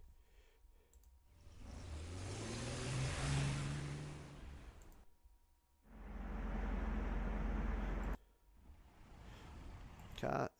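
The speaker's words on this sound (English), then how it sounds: "Car start the engine." A car engine starting sound effect plays as a few separate bursts: a rising, revving surge lasting several seconds, a pause, then a shorter heavy rumble that cuts off abruptly, followed by a brief final blip.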